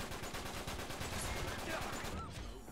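Rapid automatic gunfire from blind firing in Uncharted 3 multiplayer, a steady stream of fast shots at moderate distance, with faint voices underneath.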